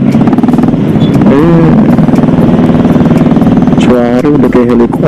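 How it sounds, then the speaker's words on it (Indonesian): A Honda Beat scooter engine drones loudly close by on a busy road, with a rising whine as it passes early on and again near the end. "Samping motor berisik lagi maksudnya, motor beat mau pakai angkot gituan"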